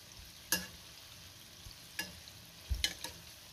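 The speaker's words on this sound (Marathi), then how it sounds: "आता आपण हे सगळं असं व्यवस्थित मिक्स करून घेऊया" Jaggery gulgule batter being stirred in a bowl, with a few sharp scraping clicks of the spoon spaced across a quiet background.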